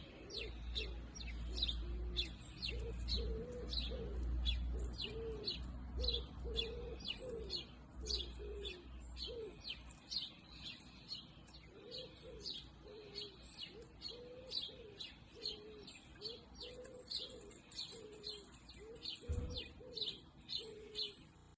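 Birds call steadily through a long stretch, rapid high chirps and tweets over a run of low repeated cooing notes, with steady outdoor background noise.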